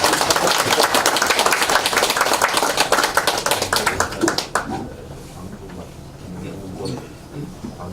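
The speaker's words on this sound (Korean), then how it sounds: "박수 한번" An indoor crowd at a national unity New Year ceremony applauds. Dense, loud clapping lasts about four seconds, then thins into scattered claps and fades out under the room's murmur.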